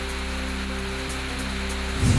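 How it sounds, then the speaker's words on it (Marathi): Heavy rain hisses steadily in a dense, even wash across the clip, with a low background hum and a slight swell near the end, recorded in stormy weather in Jalna. "जालना शहरामध्ये वादळी वाऱ्यासह पावसाची दमदार हजेरी"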